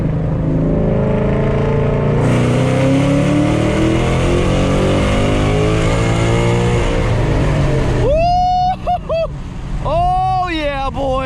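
A turbocharged car accelerates hard under boost, its engine revving loudly and steadily close by for about eight seconds before a voice talks over the continuing engine noise.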